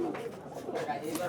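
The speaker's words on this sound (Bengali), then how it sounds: "এই যে ভাইয়া আরো এক জোড়া কবুতর বের করলেন" Sapchila pigeons cooing at a busy pigeon market, soft repeated coos mixed in with the murmur of people talking nearby.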